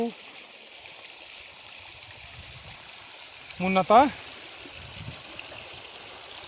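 A river stream flowing steadily outdoors, a faint continuous watery hiss that runs throughout while someone speaks briefly over it.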